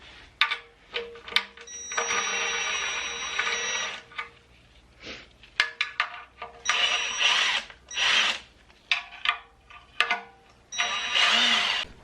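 A power tool loosens the front sump bolts on a Toyota 2JZ engine in a BMW E46 conversion, in repeated short whirring bursts of one to two seconds with brief gaps and clicks between them, close up.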